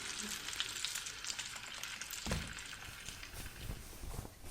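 Onion frying with ginger-garlic paste for kadhi pakora crackles and sizzles steadily in the pan, fairly quiet, with a few soft stirring scrapes and a thump midway; no speech.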